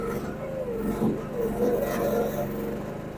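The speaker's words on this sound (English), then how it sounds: "Give it some more gas." A Chinese micro mini excavator engine revs steadily under load for a few seconds, with a loud, continuous, fairly close engine drone.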